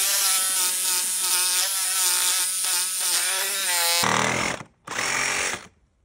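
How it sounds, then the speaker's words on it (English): A Sawzall reciprocating saw makes a plunge cut, its loud, close motor whine pulsing with the blade stroke, then turning to a harsher cutting roar that stops briefly and ends abruptly. "Next, the sawzall."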